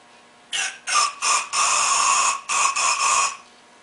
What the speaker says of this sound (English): Then I'm going to shoot some carb cleaner down the emulsion tube.